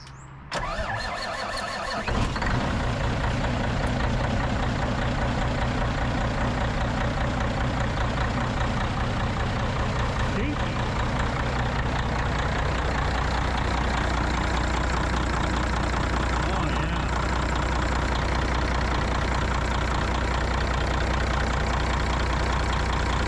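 A CAT 3406E diesel truck engine cranks briefly, fires up and then settles into a loud, steady idle with a deep rumble that carries on alone for over twenty seconds.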